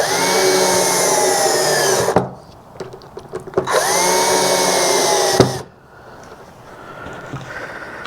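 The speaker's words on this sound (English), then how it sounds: "Sounds like my drill is getting down to the end of the juice." A cordless power drill running low on battery whines in two long bursts, its pitch sagging and dropping as each run winds down, with short clicks and handling noises in between.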